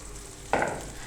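Four unbeaten eggs drop into a hot pan of oil and spices, setting off a sudden burst of sizzling that stays loud, close and alone.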